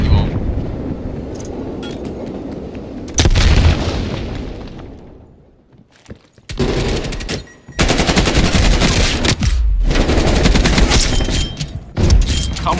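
Shotgun blasts and other gunfire in a Black Ops Cold War multiplayer match come in loud, dense bursts that cut in and out between brief quiet gaps, with a player talking over the action.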